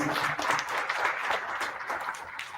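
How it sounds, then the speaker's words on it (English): An audience at a young entrepreneurs' club town hall gives a round of applause for the chairman. The clapping is dense and steady, filling the room at an even level for the whole stretch, with no voices over it. "I would like to give a round of applause for Shami Baba, Chairman, please."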